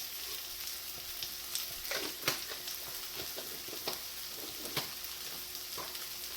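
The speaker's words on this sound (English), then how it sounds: "I'm sauteing a lot of onions" A large batch of onions sautés with oregano in a pan for a Sicilian sfincione pizza topping. A soft, steady crackling sizzle is broken by occasional sharp stirring clicks and scrapes, with no talk.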